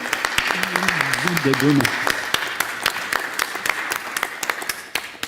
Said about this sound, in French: je voudrais applaudir